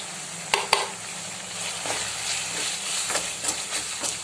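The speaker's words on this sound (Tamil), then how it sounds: "இப்போ நம்ம மசாலா பொருள்லாம் சேர்த்து வதக்கிக்கலாம்" Masala spices sautéing with onion and tomato in a pan for an egg kulambu, a steady soft sizzle with a few sharp spoon clicks and scrapes of stirring, close and alone.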